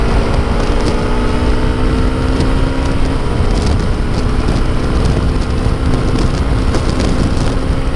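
A Honda CRF250L motorcycle cruising in 6th gear at about 64 mph and 7,500 rpm, giving a steady, dense engine drone mixed with heavy wind rush that stays loud and constant throughout.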